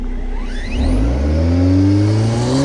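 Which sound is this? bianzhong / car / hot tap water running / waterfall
car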